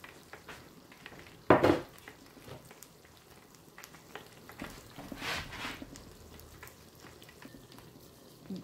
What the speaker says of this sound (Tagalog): iprito nyo na lang siya sa deep fried